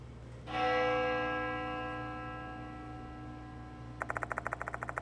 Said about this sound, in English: The sound of a bell echoes in my ears.